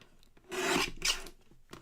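Craft piece having its bottom edge trimmed on a cutting mat, two short close rasping strokes of a blade or scissors through paper, faint and alone.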